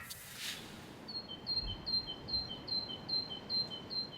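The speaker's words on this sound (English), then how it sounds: "Birdsong, able for once to pierce the noisy din it normally competes with in the British capital" Birds sing in a central London street, a clear repeating chirp phrase of about eight short high calls in steady rhythm, alone over a low background hum with no talking.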